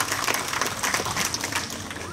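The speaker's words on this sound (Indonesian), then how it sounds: "Kita tepuk tangan untuk itu." Audience clapping hands at a cultural festival performance in East Nusa Tenggara, a short burst of scattered applause mixed with crowd noise and talking.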